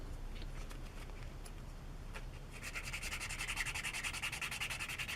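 Scratching away paint on a Tamiya 1/12 scale Yamaha YZR M1 '09 model kit, a faint, steady run of quick rasping strokes that grows busier and more rhythmic halfway through, with no one talking.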